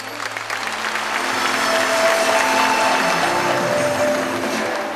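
An audience at a stage performance breaks into steady applause that swells slightly and holds for several seconds, dense and fairly loud.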